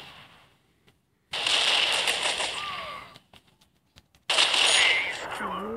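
M9 pistol gunfire in the video game Crisis Action, two loud, dense bursts of crackling shots separated by near-silent gaps with a few isolated pops, and a voice speaks briefly in between.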